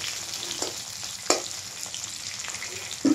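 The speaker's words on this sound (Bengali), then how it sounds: "তো টমেটোটাকে আমি ভালো করে ভাজবো পেঁয়াজটার সঙ্গে" Tomato fries with onion in a pan, giving a constant sizzle broken by a few scraping stirs and small spatters.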